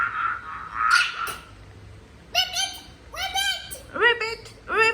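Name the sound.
frog croaking, played by Google Assistant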